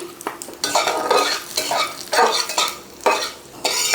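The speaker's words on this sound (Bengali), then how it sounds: "কাজু কিশমিশটা হালকা ভেজে নিচ্ছি" Cashews and raisins fry in ghee with a lively sizzle, broken by repeated scraping stirs of a utensil against the pan in an uneven rhythm, close and fairly loud.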